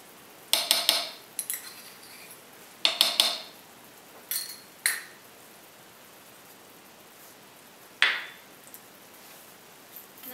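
A spoon scrapes and clinks against a cooking pot while spices and tomato paste for chicken korma are stirred in, in short bursts of clattering taps separated by quiet pauses.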